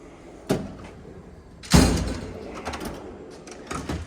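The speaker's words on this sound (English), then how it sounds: "Flashlight drawer." A drawer slides open on a 72-inch Snap-on Master Series toolbox with hutch, giving a sharp metallic clack and rolling rumble, with a lighter knock just before and faint rattles trailing after.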